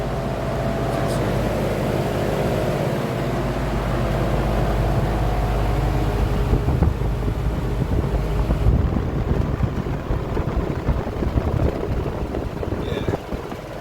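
Vintage Sears 20-inch whole house fan, repainted, running in reverse with a steady broad whoosh of moving air and low motor hum, growing rougher and more fluttery later on, with no talk over it.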